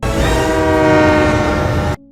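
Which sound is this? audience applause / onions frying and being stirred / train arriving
train arriving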